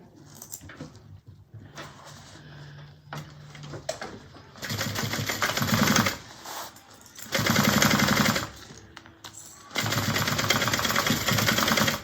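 Sewing machine basting zipper tape onto a bag, running in three loud, steady bursts of a few seconds each, separated by quieter pauses with faint handling sounds.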